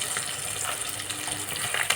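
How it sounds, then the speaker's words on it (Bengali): Katla fish frying in hot oil, a steady close sizzle and crackle running evenly through the whole stretch with no talk. "কাতলা মাছটা আমি ভেজে দিচ্ছি।"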